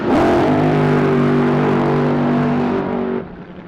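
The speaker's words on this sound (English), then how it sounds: "Here we come, funny car." A funny car engine revs hard at an NHRA drag race at Gainesville Raceway, a loud, sustained roar with steady harmonic tones holding for about three seconds before dropping off sharply.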